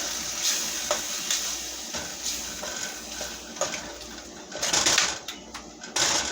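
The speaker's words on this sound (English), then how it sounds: "Then I'm gonna stir everything. Get a good stirring." A spoon stirs rice and beans in a pot, with repeated scrapes and clinks against the sides over a soft sizzling bed, louder clatter bunching near the end.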